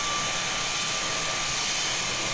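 A Flowbee vacuum haircut device runs steadily, drawing air with a constant broadband whoosh and a faint high whine, heard alone and fairly close.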